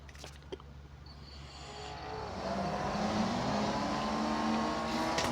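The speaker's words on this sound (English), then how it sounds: "I still find it kind of crazy how the M2 sounds like a muscle car, even though it's a 6-cylinder or a 4-cylinder" In the NFS No Limits racing game, a BMW M2's engine builds from a quiet hum into a sustained, rising rev, heard faintly throughout.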